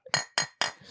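Three sharp taps on the top of an old Charter 101 bourbon bottle, the glass-topped bottle giving a dull, plasticky clink each time, evenly spaced and close, with a fourth hit starting at the end.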